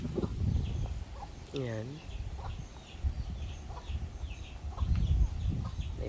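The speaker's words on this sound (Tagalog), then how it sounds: "Aming mga manok." Chickens cluck and mutter nearby in a garden while a person speaks briefly, and a rising bird call cuts through once.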